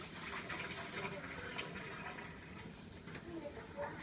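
Boiling water is poured out, a continuous splashing gush of liquid running steadily for several seconds, quiet and close with some surging.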